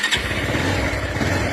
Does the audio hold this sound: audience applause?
no